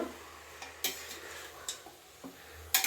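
Mutton coated with turmeric powder frying in oil in a pot, a faint steady sizzle broken by a few sharp clinks and scrapes of stirring, with no one talking.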